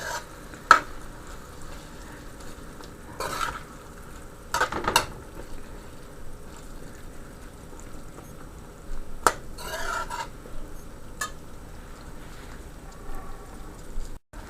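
Chickpea gravy for channa curry bubbles in a pot, with a soft steady simmer and a few scattered scrapes and clinks of a spoon stirring.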